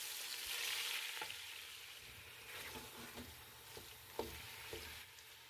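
Minced chicken stirred and frying in a pan over high heat, a steady hiss of sizzling with occasional spatula scrapes and taps, close and fairly quiet.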